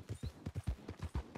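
Horse hooves clip-clop at a steady walking pace in Red Dead Redemption 2, about eight soft, fairly close thuds in an even rhythm, heard alone and quiet.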